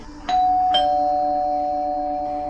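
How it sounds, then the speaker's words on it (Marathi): A doorbell rings once with a two-note ding-dong, the second tone ringing out and slowly fading. "दाराची बेल वाजली"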